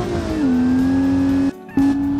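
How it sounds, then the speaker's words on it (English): A supercharged Toyota Land Cruiser off-roader in the BeamNG driving game revs hard and loud at a steady high pitch, cuts out briefly for a gear change, then surges back to a sustained engine whine. "it revs much higher, which is strange"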